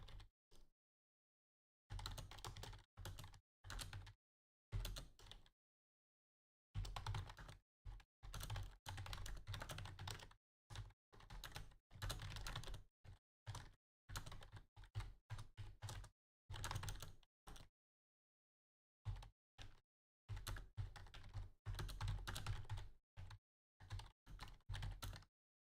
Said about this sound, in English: type in the Discord whatever you're trying to type on here